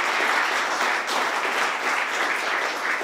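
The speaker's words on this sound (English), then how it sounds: "give everybody a big round of applause" Steady, dense applause from an audience at a press conference fills the whole stretch as a continuous wash of clapping at an even level.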